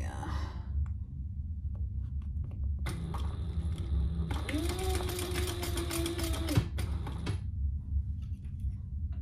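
A sewing machine stitches piping onto an Almendra bag in a steady mechanical whir of about four seconds mid-clip, preceded by a quieter stretch of shorter runs and ending abruptly.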